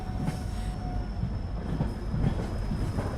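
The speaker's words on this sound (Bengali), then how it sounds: "রাত 1টা, ট্রেন উলুবেড়িয়া ছাড়ল।" A train running on rails at night, leaving a station, with a steady low rumble and rhythmic wheel clatter throughout, close and continuous, with no voices.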